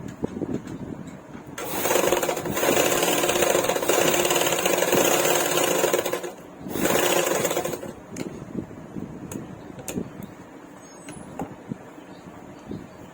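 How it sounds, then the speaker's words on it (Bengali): A sewing machine stitches a blouse seam in two sustained runs of loud, fast mechanical whirring, the first long and the second short, with quieter handling clicks and taps before and after. "ঠিক 2 সুতো গ্যাপে কিন্তু আর একটা সেলাই দিয়ে দিতে হবে।"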